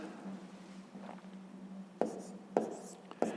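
Pen or pencil writing numbers on paper during a fifth-grade subtraction exercise, with soft scratching strokes and three sharper taps near the end over a low steady hum, close and quiet.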